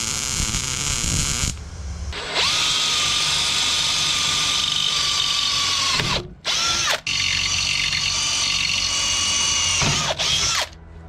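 A power drill drives a bit through a spacer into a metal plate for an intermediate shaft adapter. The drill runs loud and steady in long sustained whines, stopping briefly twice and restarting, with no voices.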